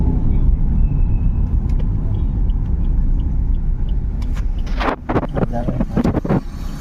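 Heavy vehicle traffic rumbles along the old Pune–Bangalore highway, a loud continuous road roar with wind buffeting the microphone, then fading slightly as a person starts speaking over it.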